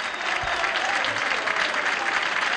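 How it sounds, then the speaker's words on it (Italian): Pro Patria football fans applaud in a stadium stand, a dense and sustained wash of clapping from a large crowd that stays loud and even throughout. "ci sono altri tifosi della Propatria che si dissociano e applaudono"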